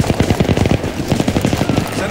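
Steyr AUG A3 rifle in Battlefield 3 firing rapid, close automatic bursts, a dense string of sharp cracks that pauses briefly midway and then resumes, with someone talking faintly underneath.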